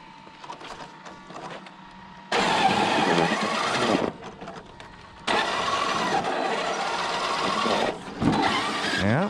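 An Arrma Kraton RC car's electric motor winds up in two long, loud, whining bursts separated by quieter idle gaps, then gives a shorter burst at the end.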